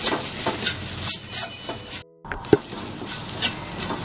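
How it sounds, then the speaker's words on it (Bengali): Spices including ground pepper and ginger powder stirred in a pan, spoon scraping and shuffling over a light sizzle, with a brief dropout midway, a sharp tap after it and no talk. "আমি একটু 1 মিনিট মতো নাড়িয়ে নেব"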